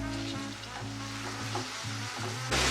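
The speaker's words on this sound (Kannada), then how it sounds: "ಈಗ ಎಲ್ಲವನ್ನು ಫ್ರೈ ಮಾಡಬೇಕು." Vegetables such as peas and cabbage frying in a pan for a quick vegetable pulao, a steady close sizzle with a low droning hum and a louder burst near the end.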